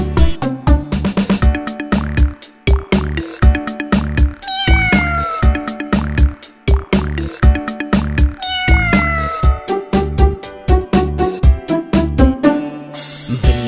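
A cartoon cat meows in a Hindi children's rhyme about a cat and mice, its rising and falling cries set inside a bouncy, loud musical backing.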